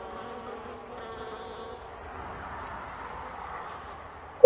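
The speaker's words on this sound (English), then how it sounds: "That is a bee just hatching out of her cell." A close, continuous buzz of honeybees humming steadily at the hive, with no talking, ending in a sudden sharp knock.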